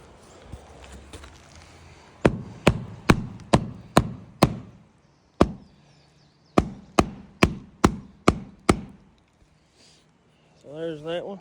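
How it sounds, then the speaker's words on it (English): A hammer pounding wood on a storage shed build, sharp loud blows coming in quick runs of several strikes with short pauses between the runs, followed by a brief voice. "That's my hammer."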